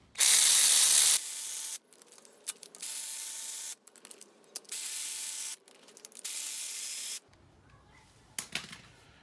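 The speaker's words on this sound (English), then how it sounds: "Now you got 4 bolts here holding on the camshaft retainer. So now we got to take those off." Ratchet taking out the 10mm camshaft retainer bolts on a 5.3 LS engine from a 2005 GMC Sierra, producing several close, bright bursts of quick clicking with short pauses between them, after an opening spray hiss.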